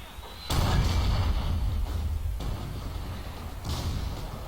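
Mortar fire in the video game Forgotten Hope 2 comes through as a few heavy booms over a constant rumbling battlefield din.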